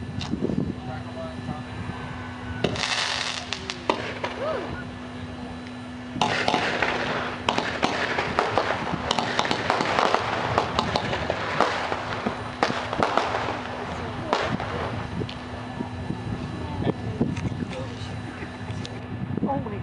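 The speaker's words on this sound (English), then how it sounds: "And then we can do we'll do the same thing with a regular comet. These are blue comets" Blue comet fireworks launch at a private fireworks demonstration, with loud popping bursts and crackling shots over a steady outdoor rumble while people talk nearby.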